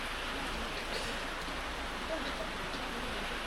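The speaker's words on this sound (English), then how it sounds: "Well, it was gonna start raining sometime." Steady rain falls in the mountains along the Thailand–Myanmar border in the Golden Triangle, an even, dense hiss with no gaps, fairly faint and close, with brief talk over it.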